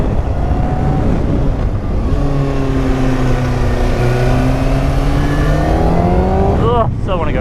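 A Kawasaki Ninja 636 motorcycle engine drones loudly and steadily up close while riding through corners, its pitch rising and falling with throttle changes, ending in a quick rev.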